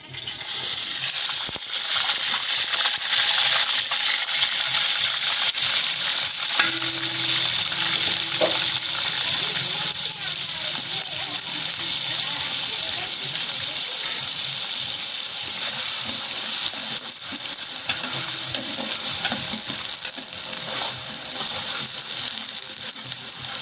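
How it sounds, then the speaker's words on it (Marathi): Onion frying in half a kilo of hot oil for village-style mutton, a dense, continuous crackling sizzle at close range with occasional clinks, with no talk over it. "तेल चांगलं तापलंय, त्यात कांदा टाकूया।"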